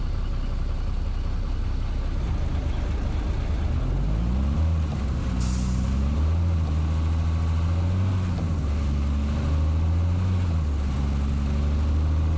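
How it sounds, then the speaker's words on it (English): A 500-horsepower truck engine in American Truck Simulator hums steadily, with a low droning rumble whose pitch rises and settles midway, continuous and close with no talk. "And this engine we're running here"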